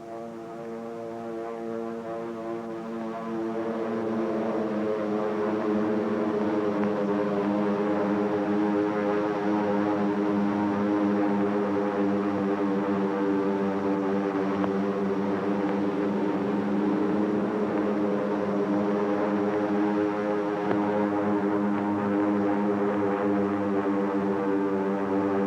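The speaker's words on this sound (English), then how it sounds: "the drone of planes was faintly heard" A loud, steady drone of approaching warplanes over Honolulu's harbor at 7:50 in the morning swells in the first few seconds, then holds as a dense, layered engine hum with no voices.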